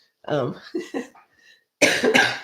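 A few short, harsh coughs close up, followed after a brief pause by two louder, raspy coughs.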